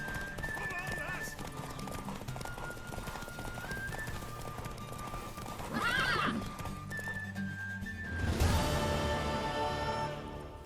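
A horse's hooves clip-clop steadily in The Witcher 3, with a loud whinny midway and another surge of hoofbeats near the end, over continuous game music and ambience.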